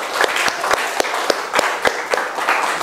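Classroom applause with a few sharp claps standing out at a steady rhythm over a wash of smaller hands, fairly close and loud, lasting a couple of seconds.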